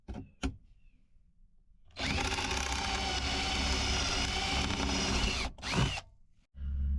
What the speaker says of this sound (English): We've got to drill out the 4 rivets that we used to install it.